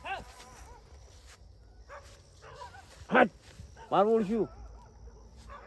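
A few dogs bark and yelp in short, loud bursts, two distinct calls standing out near the middle, amid steady talking by people in a rural Gujarati village yard.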